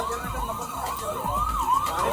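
A fire engine's siren wails in rising and falling sweeps at a packaging factory fire, loud and fairly close, with low rumbling traffic beneath and no voices.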